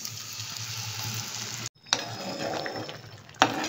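A broccoli paste sizzles as it fries in a pan at home, a steady hiss that cuts out briefly partway through, then resumes with a sharp clatter and continues at moderate level.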